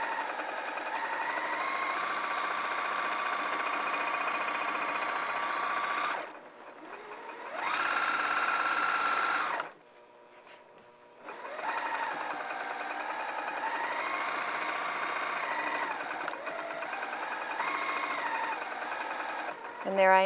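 Sewing machine stitching flannel fabric for a schoolhouse tunic, running in steady bursts with a brief pause and a short stop midway, close and clear, with no talk over it.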